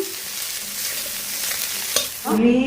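Okra curry (bhindi jhol) cooking in a home kitchen pan, giving a steady close sizzle and bubbling with faint stirring, then a brief clatter and a louder burst of frying near the end.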